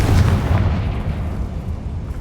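A Confringo explosion spell cast in the video game Hogwarts Legacy lands as a deep, loud blast that rumbles and fades over about two seconds.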